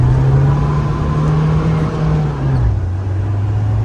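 Old Scorpio SUV fitted with an S10 engine revs under throttle, a loud steady low engine drone close by that holds, then drops in pitch as the revs fall.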